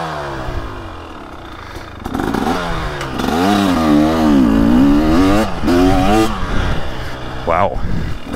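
A 2023/2024 KTM 300SX two-stroke dirt bike fitted with an FMF Factory Fatty pipe and Powercore 2.1 Titan silencer revs up and down in rising and falling throttle sweeps, loud and close, with a rider speaking over it.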